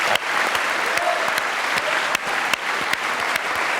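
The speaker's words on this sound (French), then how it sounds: "Ça mérite quelques petits applaudissements." Sustained studio audience applause on a French TV variety show, a dense steady wash of many hands clapping at moderate loudness with no voices over it.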